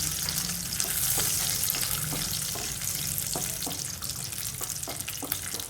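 Steady crackling sizzle of cashews and raisins frying in hot ghee, with a few soft stirring scrapes, no voices.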